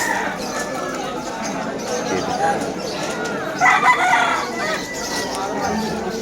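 A rooster crows once amid a busy pet market din in Hulo, Malabon, with a crowd chattering and general bustle throughout.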